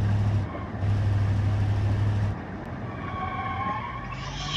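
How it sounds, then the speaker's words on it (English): A police car siren in a driving scene, faint rising and falling wails emerging late behind a steady, droning engine hum, with no one talking. "Oh, that's a darn police car."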